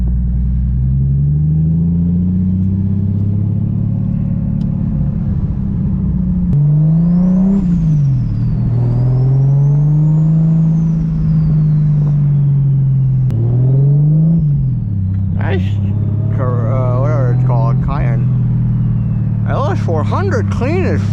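A 600 hp Lexus IS300 sleeper sedan runs on the road with a steady low engine drone, its pitch rising and falling as it accelerates and shifts, while people talk over it throughout.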